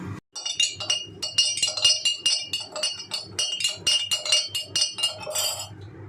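A metal spoon clinks rapidly and repeatedly against a glass while Tang drink mix is stirred in, with close, bright, steady chiming and no talking.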